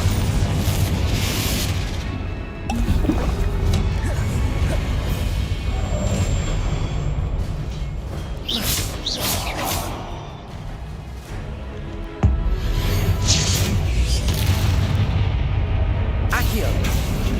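Explosions from the Confringo blasting spell in Hogwarts Legacy combat: loud booming bursts over constant dense game noise, with a sharp blast near the middle and a voice speaking over the action.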